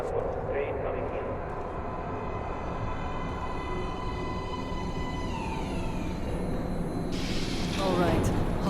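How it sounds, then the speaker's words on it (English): A train pulls into a platform in the video game Metro: Last Light Redux. A heavy rumble builds steadily, with metallic ringing tones, and a sharp screech rises near the end as the train comes in. "Please step away from the edge of the platform. Train coming in."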